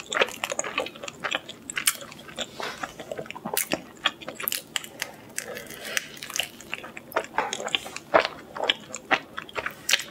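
Folded Papa John's Wisconsin cheese potato pizza being bitten and chewed close up, a run of wet, crunchy chewing sounds with irregular sharp crunches over about ten seconds.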